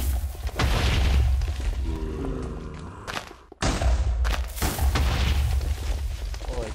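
TNT explosions in a video game go off in a loud chain of deep booms and rumbling blasts, with a brief drop partway through before the booming resumes.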